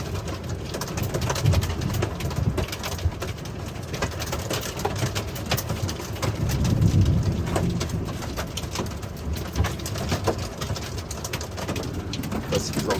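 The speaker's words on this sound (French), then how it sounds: "regardez l'orage qu'on a. On a de la grêle." Hailstones around 1 cm across falling during a thunderstorm, a dense continuous patter and clatter on surfaces outdoors, with pigeons cooing faintly in the background.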